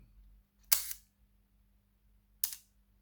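An Olympus 35SP film camera shutter fires on the B setting at f/16, giving a sharp mechanical click on opening and a second click about two seconds later on closing, with quiet surroundings.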